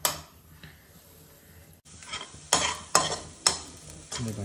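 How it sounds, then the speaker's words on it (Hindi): Vegetables sizzle in a hot pan and get stirred, with a steady frying hiss and several loud scraping strokes of a spatula against the pan, close and without talk. "अब इसमें डाल देंगे हम सब्जियाँ। सब्जियाँ गई अंदर, सब्जियों को थोड़ा राड़ेंगे अच्छे से।"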